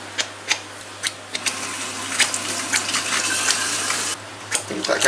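Water poured into a pot of spaghetti sauce in a kitchen, a steady splashing gush that swells after a few sharp clinks and runs on to the end, close and fairly loud, with no talking.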